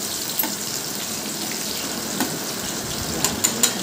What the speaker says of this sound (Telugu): ఇప్పుడు గరిటెతో కలియబెట్టుకొని మూత పెట్టి మగ్గనివ్వాలి.